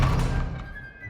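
An Expelliarmus disarming spell hit in the Hogwarts Legacy video game lands as a loud, heavy magical thunk with a shimmering whoosh, then quickly decays into a faint tonal ring.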